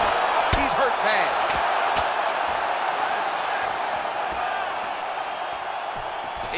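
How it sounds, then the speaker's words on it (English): Arena crowd in a UFC video game featherweight bout roars steadily as fighters trade strikes, with sharp thuds of landed blows near the start and a commentator talking over the noise. "And you hear the crowd react every time they come together"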